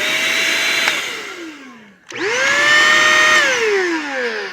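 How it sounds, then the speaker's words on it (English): Shark Rocket stick vacuum cleaner motor whining as it spins down, then restarting and ramping up to a loud, high-pitched steady whine before the pitch drops again. "The motor pitch is a little bit different, so this is a higher pitch."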